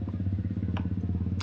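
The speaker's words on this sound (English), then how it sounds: "my neighbor with his motorcycle" A neighbor's motorcycle engine rumbles steadily nearby, a low pulsing throb with a rapid regular beat, heard alone with no talking.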